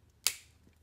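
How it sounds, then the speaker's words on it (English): Cutters snapping through a single rivet in a worn, thin plastic watch band link, one sharp click up close in a quiet room. "So I'll use my cutters."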